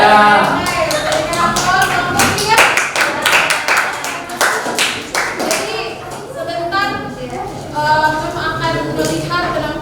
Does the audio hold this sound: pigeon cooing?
no